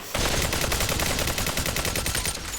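An AK rifle fires in the VR shooter Population One as one sustained rapid burst, close and loud, with evenly spaced shots running nearly the whole stretch.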